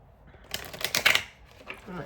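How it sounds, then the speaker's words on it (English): A deck of tarot-style cards is shuffled by hand at close range, a rapid riffle of crisp flicking clicks lasting about a second, followed by a few quieter shuffles and soft handling noises. "I keep shuffling the cards."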